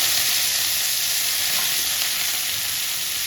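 Garlic and herbs fry in hot oil in a pan for cauliflower 65, giving a steady, bright sizzle that keeps going the whole time with no talking.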